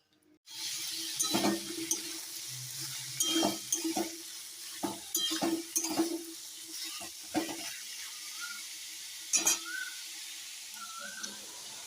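Food fries in a pan in a home kitchen, a soft sizzle under repeated stirring and scraping, with irregular clinks of a spatula against the pan.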